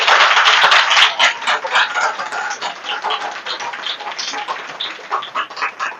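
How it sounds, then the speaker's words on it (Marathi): A church congregation claps loudly together in a dense, continuous burst of applause that keeps going for several seconds and eases slightly toward the end. "जोरदार टाळ्या पण येशूसाठी वाजवू"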